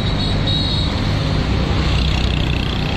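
A car driving along roads in Vietnam, with a steady, continuous rumble of engine and tyres on the road surface and no voices.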